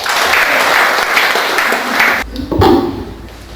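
An audience at a magazine launch honouring Professor Ram Prakash bursts into dense, loud applause that carries on for about two seconds, then gives way to a few scattered claps.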